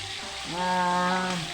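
Breakfast frying in a pan, a steady broadband sizzle close by that swells louder midway, with a sustained tonal hum running underneath through most of the short stretch.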